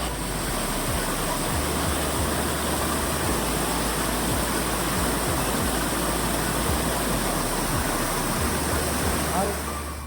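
Cold water rushing steadily at Kalakkad, a loud, continuous roar of flowing water with no break, close and filling the scene.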